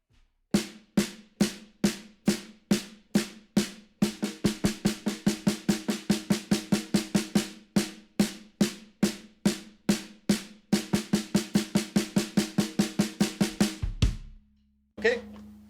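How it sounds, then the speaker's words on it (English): A drum kit is struck in a steady pulse of even eighth notes for one bar, then the rhythm doubles to rapid sixteenth-note strokes, alternating back and forth before ending with a short final note. "we can play a wee exercise of just 1 bar of 8th notes, 1 bar of 16th notes"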